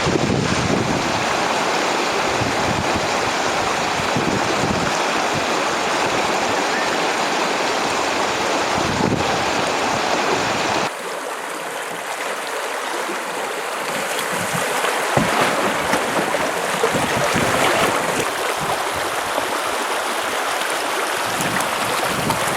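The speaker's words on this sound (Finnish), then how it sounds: "Eka koski." Steady, loud rushing roar of river rapids on a small Lapland trout and grayling river, continuous broadband water noise with wind buffeting the microphone and a brief dip midway, no voices.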